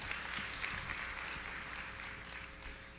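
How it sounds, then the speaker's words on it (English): An audience at a motivational talk claps together in a steady, fairly faint wash of applause that fades slightly toward the end. "Give him a clap."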